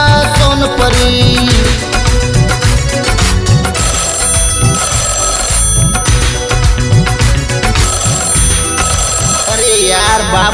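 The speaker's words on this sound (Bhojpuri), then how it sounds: "अरे यार बाबू को फिर फोन आई गया" Loud telephone ring with repeated bright electronic ringtone bursts amid music and voices, in a Bhojpuri folk song setting.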